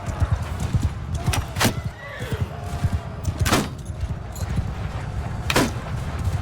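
Horses in Mount and Blade II Bannerlord galloping with rapid thudding hoofbeats through a battle din, while loud shrill neighs break out three times, close and prominent.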